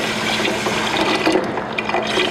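Water poured from a tap onto rinsed sushi rice in a pot, a steady broadband splashing and filling rush that runs continuously and close up, with no talking over it.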